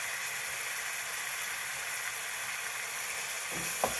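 Vermicelli upma sizzles steadily in a pan as fresh coriander leaves are added, a soft continuous frying crackle with a couple of brief stirring knocks near the end.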